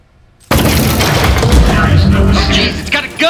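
A turret in the Aperture Desk Job video game opens fire with a loud, sustained burst of booming gunfire that starts abruptly and continues without pause before tapering off near the end.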